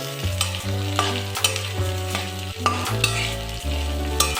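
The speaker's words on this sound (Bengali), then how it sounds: "যতটুকু পেঁয়াজ ছিল দিয়ে দিলাম। এবার এটাকে ভালো করে নেড়ে দিলাম।" Onions sizzle in a pan for a homemade chicken curry while a spatula scrapes and stirs them in repeated close strokes, a steady hiss broken by regular scraping pulses.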